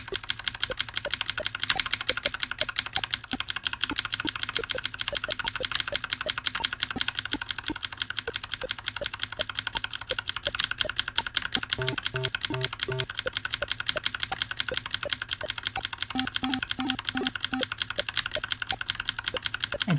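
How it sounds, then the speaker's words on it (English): Rapid mashing of game controller buttons during a livestreamed play of Weird Dreams, a dense steady patter of small plastic clicks filling the whole stretch at close range. "What even is the purpose of streaming if you don't hear controller clicks?"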